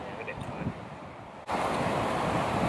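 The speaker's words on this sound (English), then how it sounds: "It's just because the wind though, because it's a quite a strong wind, wind in it." Strong wind gusting across an open golf course, a steady broadband roar that surges louder partway through and holds, with no voices over it.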